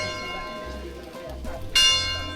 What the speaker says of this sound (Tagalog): Yung church bell.